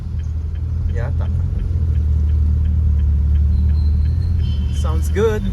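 A car's exhaust rumbles at a laid-back car meet, a steady low drone running the whole time with people talking briefly over it.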